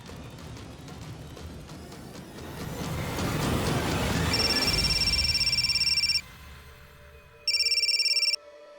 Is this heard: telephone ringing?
yes